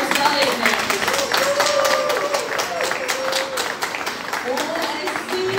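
Clapping from the audience at a music and art school Christmas concert, a dense, even patter lasting several seconds with voices audible through it.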